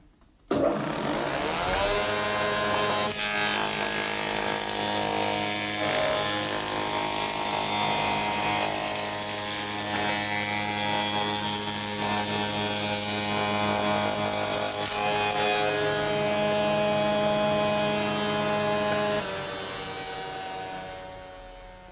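A spindle moulder runs up to speed and cuts wood with the fence and guard set, a loud sustained whine and rushing cutter noise held steady for many seconds before easing near the end.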